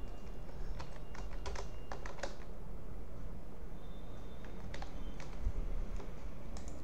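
Computer keyboard typing text into a PowerPoint shape, irregular bursts of light key clicks over a steady low background hum, close and moderately quiet, with no speech.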